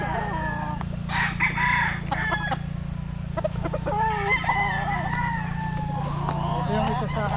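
A Kelso gamecock rooster, an overweight grand Kelso kept for cockfighting, crows loudly and close, with other fowl clucking and crowing around it over a steady low hum.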